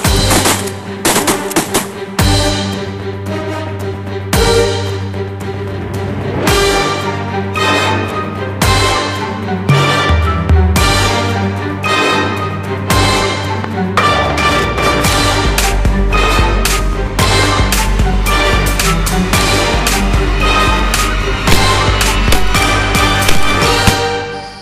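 Shotgun fire during a goose hunt, many sharp blasts fired in uneven bursts, some in quick succession, loud and close over a constant low rumble, with no talk between them.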